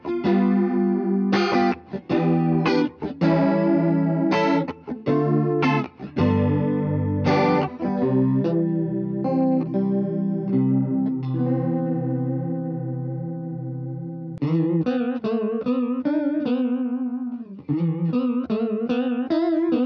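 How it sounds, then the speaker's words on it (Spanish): Electric guitar through a Walrus Audio Fundamental chorus pedal rings out strummed chords and picked notes with a shimmering, wavering chorus effect, loud and close, ending in a faster warbling passage. "el chorus es un pedal que nunca he tenido y nunca he utilizado"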